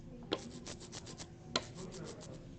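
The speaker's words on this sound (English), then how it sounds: "I'm wanting to make sure that I'm really evenly coating my brayer" Brayer rolled back and forth through ink for an even coat while monoprinting, giving a soft, steady series of close sticky rubbing strokes with two sharper clicks.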